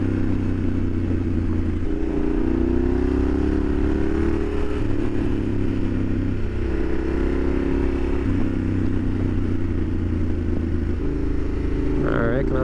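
A Yamaha Super Ténéré 1200 adventure motorcycle is ridden on asphalt, its engine droning close and steady with shifting pitch as it changes gears and speed, and a brief clatter near the end.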